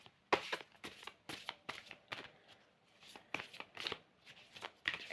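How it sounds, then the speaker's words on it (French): Oracle cards being shuffled by hand, a quick run of crisp papery riffles and slaps close up, with short pauses between bursts and no talk. "On va mélanger les cartes et je vais en tirer une."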